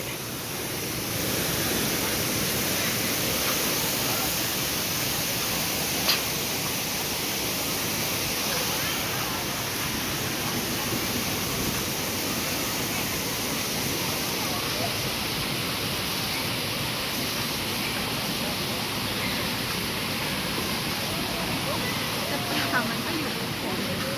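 A steady, roaring rush of Chet Sao Noi waterfall in Muak Lek, Saraburi, Thailand, fills the whole stretch, loud and unbroken from start to finish.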